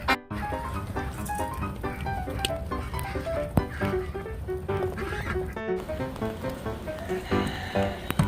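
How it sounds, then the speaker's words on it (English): Farm ducks honking and quacking in the rain, a steady chorus of close calls over soft patter, loud and continuous throughout. "The first stop is the ducks."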